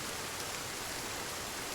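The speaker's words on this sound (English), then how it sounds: "deal with the heavy rain." Heavy rain pours steadily in the Sons of the Forest game world, a dense, unbroken hiss of drops drumming on surfaces with no gaps and no voices.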